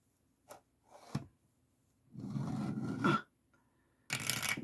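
Dice rolled during a savings challenge game, tumbling in a few short clattering bursts near the microphone, quiet between rolls with no talking.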